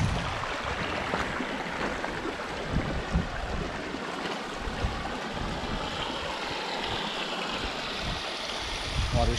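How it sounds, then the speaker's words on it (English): Water flowing in a stream pool along a trail, a steady broadband rush and burble, fairly faint, mixed with light wind buffeting on the microphone. "Water's flowing nicely there."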